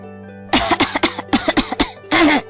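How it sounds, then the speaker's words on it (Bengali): A cartoon fox coughs in a rapid series of harsh, close coughs, two quick clusters followed by one longer rasping hack, loud and alone, voiced by a performer. "টোনার মুখে এই কথা শুনে শিয়াল কাশতে থাকে"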